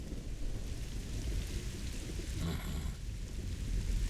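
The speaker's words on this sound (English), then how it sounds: "Don't mind the rain?" Rain and thunder in the video game Observer: a steady downpour hisses throughout, broken by a brief rumble of thunder midway, with no talk.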